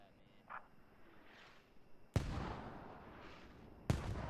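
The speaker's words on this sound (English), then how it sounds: "Mortars do come out" Distant mortar fire in the military shooter Squad: two sharp booming impacts, with rumbling tails, land about two seconds apart over a quiet background of faint battlefield ambience.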